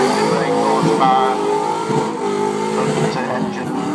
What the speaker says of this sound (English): it's a Firenza Can-Am V8 engine, 358 horsepower,